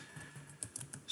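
Quiet, irregular keystrokes as a command is typed on a computer keyboard, a few soft clicks in quick succession, close and faint.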